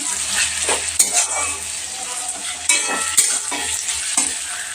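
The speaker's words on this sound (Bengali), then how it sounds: "কড়াতে দেখো আমি পেঁয়াজটা এদিকে ভাজতে দিয়েছি" Sliced onion fries in a wok with a steady, close sizzle, broken by the scrape and clink of a metal spoon stirring the pan every second or so.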